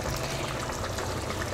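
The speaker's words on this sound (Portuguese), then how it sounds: "Aí eu vou acrescentar a água." Water poured into a pot of stewing chicken with thick broth, a steady loud rushing splash that fills the whole moment without a break.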